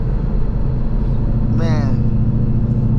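Ford Mustang Gen 2 engine drones low and steady from inside the car on a night drive, a continuous rumble with a brief burst of speech partway through.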